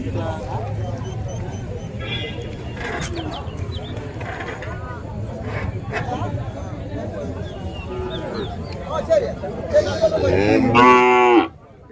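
Cattle at the Matrapalli cow market give several loud, nearby moos, the longest rising near the end, over a busy background of market clatter and people talking.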